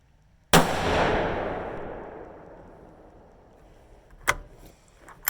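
A 6.5 Grendel rifle fire-forming 7.62x39 brass with a 100 gr Nosler bullet and Hodgdon H335 cracks once loudly, its boom echoing and fading over several seconds, followed by a couple of sharp handling clicks.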